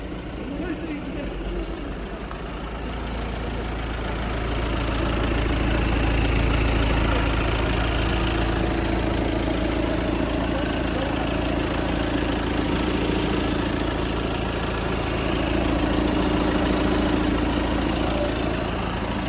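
A 2.0 TDI 190 hp diesel engine in an Audi A4 allroad quattro runs with a steady, loud, low rumbling drone that swells slightly and then holds even throughout.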